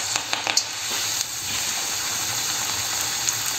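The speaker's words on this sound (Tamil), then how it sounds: "ஸோ இதை நம்ம எடுத்து ஃப்ரை பண்ண போகிறோம்" Continuous hiss and crackle of Krishna Jayanthi snacks frying in hot oil, with a few sharp pops early on.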